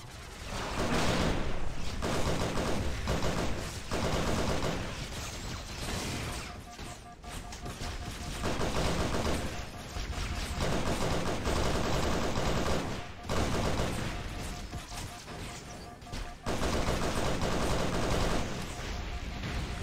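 Assault rifle fire in the Halo SPV3.3 video game, sustained bursts of rapid automatic shots repeating across the whole stretch in loud, dense volleys with short gaps between them.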